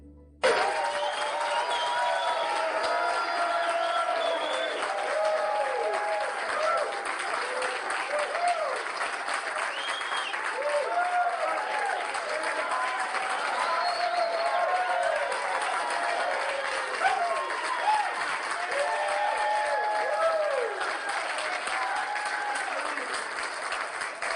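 An audience at a lecture claps warmly to welcome Dr. Neil Solomon, a continuous, full round of applause lasting over twenty seconds, with voices and crowd murmur mixed in under the clapping.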